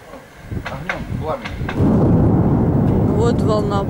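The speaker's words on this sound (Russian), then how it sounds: "Это завод взорвался." Explosion at chemical factory warehouses in Donetsk: a sustained, loud rumbling roar swells from about midway and continues to the end, with people talking excitedly over the start.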